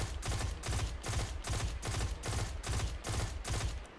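Rapid bursts of automatic gunfire from the PDX-45 submachine gun in a video game, fired with no stability or counterbalance attachments: loud, close, evenly spaced cracks repeating without pause through the whole stretch.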